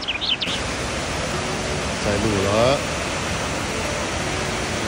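Hoshu Falls near Sendai, Japan, gives off a steady, broad roar of falling water heard close to the base. A person speaks briefly over the constant rush.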